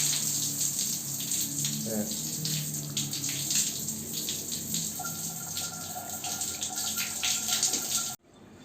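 Water sprays steadily from a shower head, a constant hissing rush with faint background voices, stopping abruptly near the end.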